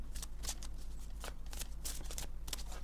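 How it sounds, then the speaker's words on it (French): Tarot-style cards being shuffled close up, a few quick papery riffling bursts in a quiet room. "en rebrassant les cartes"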